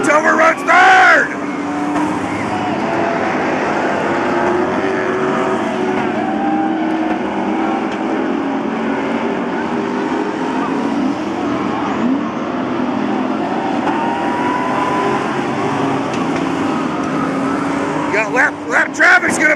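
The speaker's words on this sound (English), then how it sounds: "Great racing here in the Pure Stock Division." Pure stock race cars roar around Placerville Speedway in a loud, continuous engine drone with cars surging past, while a commentator talks excitedly over the racing.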